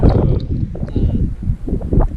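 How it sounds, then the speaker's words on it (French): Gusty wind and rain buffet the microphone with a heavy, low rumble that surges and dips over a couple of seconds. "toujours du vent et de la pluie"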